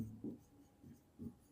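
A pen writing on paper during a sixth-grade maths lesson, giving a few faint, soft scratching strokes in a quiet room.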